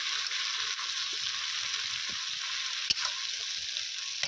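Tomato paste with ginger-garlic paste fries in a pan in a village kitchen, giving a steady soft sizzle with light stirring taps and one sharp clack near the end, no talk.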